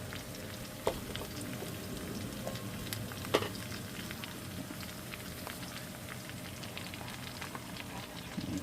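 Onions and peppers fry in a skillet with potatoes, giving a steady, crackling sizzle throughout with a few sharper pops and spatters.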